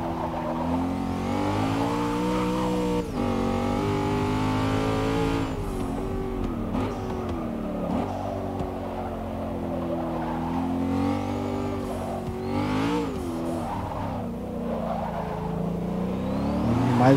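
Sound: race car engine accelerating in Forza Motorsport 6 video game

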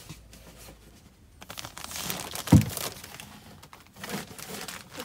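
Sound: taping up a shipping package

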